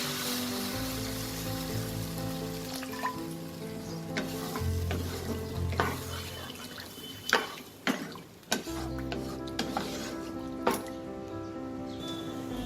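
Water goes into sizzling spice paste with potatoes in a pan, a steady close sizzle with scraping stir strokes, then a sharp hissing burst and several loud splashy pops partway through as the liquid hits the hot pan, with faint talk underneath.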